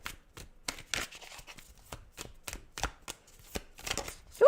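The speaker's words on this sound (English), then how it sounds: "I love that I shuffled this on camera" A tarot deck is shuffled up close, giving irregular papery riffles and soft slaps in short bursts with brief pauses, no voices.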